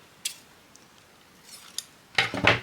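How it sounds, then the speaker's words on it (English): Scissors snip while cutting a crafting piece at an angle. A single crisp snip comes first, a lighter one follows, then a quick cluster of close cuts at the end over a quiet room. "Sort of like cut it on a little bit of an angle."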